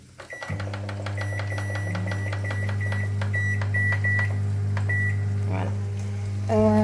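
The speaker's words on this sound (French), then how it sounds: "Les pâtes, moi je les fais revenir au micro-ondes." A microwave oven reheating pasta hums steadily while a quick series of keypad beeps sounds as the time is set, followed by a short louder beep near the end.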